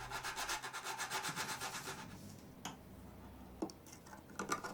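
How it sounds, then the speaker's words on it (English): Cured automotive filler on a fiberglass Cyberman head is sanded by hand in quick, rhythmic rubbing strokes close up, which stop after about two seconds and give way to a few faint taps and scrapes. "I carefully sanded the filler flat until it was smooth and blended in perfectly with the existing fiberglass"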